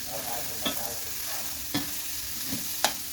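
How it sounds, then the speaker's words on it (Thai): Steady frying sizzle with occasional sharp scrapes of a utensil stirring pork in a pan with a splash of pork broth, no voices. "เวลาเราผัดหมูจะได้ไม่ติดกระทะค่ะ"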